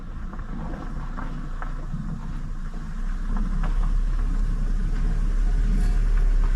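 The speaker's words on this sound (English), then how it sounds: "she suddenly heard a car approaching" A car drives up through a forest at night near a campfire, its low engine rumble building steadily and growing louder over several seconds, with wind noise on the microphone and no talking.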